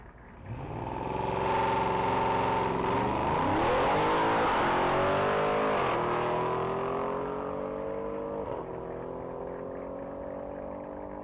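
A 2014 Audi RS7 accelerating hard on a top speed run at the Texas Mile, its engine note climbing loudly through several gear changes, then holding a sustained high roar as it pulls away.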